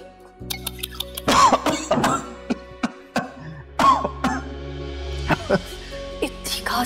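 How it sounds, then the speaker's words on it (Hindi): Several harsh coughs burst out among people talking nearby, with a steady electrical hum underneath. "इतनी खांसी हो रही है आपको"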